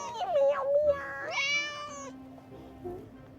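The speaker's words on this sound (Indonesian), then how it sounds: "Ada kucing. Oh, lucu banget. Miau miau." A cat meows several times, close and clear, with rising and falling mews over quiet background noise.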